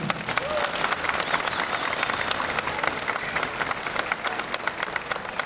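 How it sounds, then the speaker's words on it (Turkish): Steady applause from an indoor audience at a Bornova ceremony opening hobby and skills courses, dense clapping sustained evenly throughout with a few voices faintly mixed in. "Yine kocaman alkış istiyorum."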